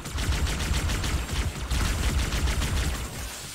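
Gunfire during a Halo 2 battle against enemies with a sniper rifle: dense, rapid, overlapping shots rattle on loudly and close throughout, with no pauses or talk.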